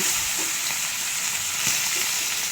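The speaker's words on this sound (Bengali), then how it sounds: "মাছটার এক পাশ আমার ভাজা হয়ে গেছে আমি অন্য পাশটাকেও ভেজে নিচ্ছি" Fish sizzles and crackles loudly in a hot pan, a dense steady frying hiss with no voices.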